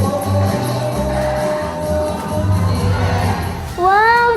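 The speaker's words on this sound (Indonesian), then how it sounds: "Kalau gitu kita berikan semangat tepuk tangannya semuanya." A crowd of children cheers and shouts at a show during a school outing to Ocean Dream Samudera, a steady roar of voices with a brief rising whistle-like sound near the end.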